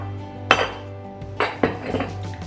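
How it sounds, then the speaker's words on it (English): Small baking measuring cups, a half cup and a one cup, clink against each other in a few sharp, close metallic knocks at a home kitchen counter, with a steady hum in the background. "These are my measuring cups."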